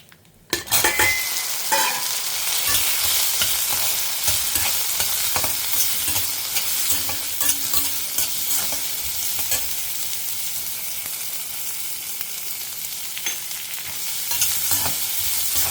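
Okra sautéing in a hot pan while being stirred for a yogurt pachadi, a loud continuous sizzle with scraping and clinking of the spoon against the metal, steady and close, with no talk.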